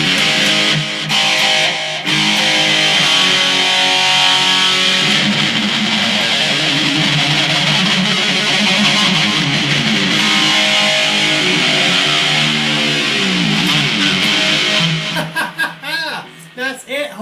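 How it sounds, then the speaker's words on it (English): Electric guitar played through a BOSS eBand JS-10 with a tape echo effect, loud distorted lead lines with repeating trailing echoes, ending in a choppy burst of fading repeats. "Hear that tape echo?"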